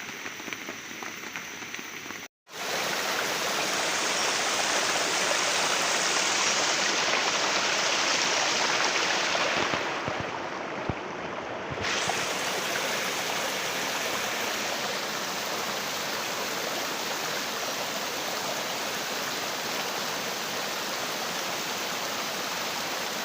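Steady rain falls in a forest, a dense, even hiss of drops that continues loud and unbroken apart from one brief dropout near the start.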